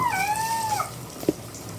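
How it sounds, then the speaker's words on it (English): A cat being rinsed in a bath lets out one clear, falling meow up close, followed by a short knock of water or movement against the tub. "while you rinse the cat, you gotta be very careful because this is the time when they jump out the most."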